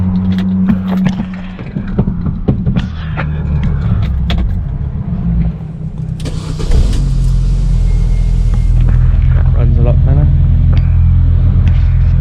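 A Mini Cooper 1.6 R50/R53 engine cranks and catches just after a spark plug change, then settles into a loud, steady close-up running rumble, with a person talking and some rattles and handling noises around it.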